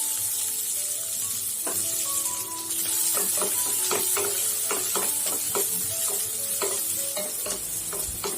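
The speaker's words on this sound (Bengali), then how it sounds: "রসুনটা যখন এরকম ভাজা হয়ে যাবে তখন একটা পেঁয়াজ কুচি করে কেটে দিয়ে দিলাম।" Chopped onion frying with garlic and cumin in hot oil, a loud continuous sizzle with a rapid run of sharp spatula scrapes and taps against the pan, no talking.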